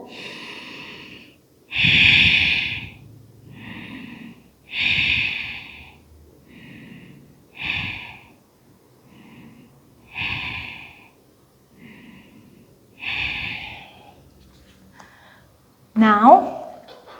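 Slow, deep breaths held during a yoga hip-opening pose come as a series of close, airy inhales and exhales, evenly spaced and soft, ending with a brief higher-pitched sound.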